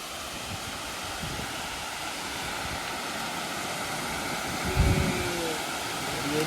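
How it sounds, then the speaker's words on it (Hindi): Ettipottala waterfall pouring down toward the Krishna River makes a steady, broad rushing roar that holds level from start to finish, with a brief low thump near the end. "ये रहा वाटरफॉल।"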